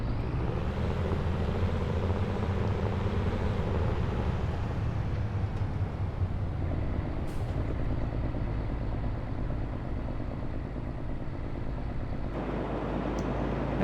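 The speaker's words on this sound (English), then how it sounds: "Yeah, the older tractors do sound good." An old tractor engine in Farming Simulator 22 drones steadily and loudly, a low rumbling idle with a rough, uneven chug that holds throughout without any talk over it.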